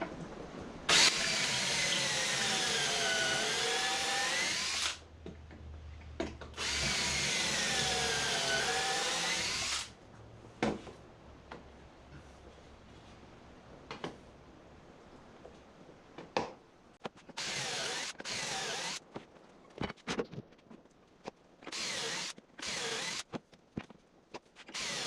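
A power drill drives pocket hole screws into a kitchen cabinet during assembly, giving two long whirring runs with rising and falling motor pitch, then shorter intermittent bursts separated by quiet pauses, close by and fairly soft.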